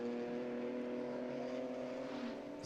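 GT4 race cars at the Macau street circuit give a steady, sustained engine drone at a distance, holding a constant pitch through the short stretch with no talking.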